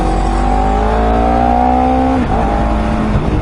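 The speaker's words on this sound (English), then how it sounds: "this is the first time I'm ever riding a 250cc motorbike" A Honda CBR 250RR sport motorcycle with a 250cc engine runs steadily under the rider, its loud, close engine tone holding and rising, then dropping sharply as the revs fall and shift, over continuous road and wind noise.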